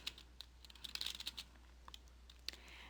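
Quiet computer keyboard typing while entering a search term, a quick burst of light key clicks clustered in the first second and a half, then a few scattered taps over a faint steady hum.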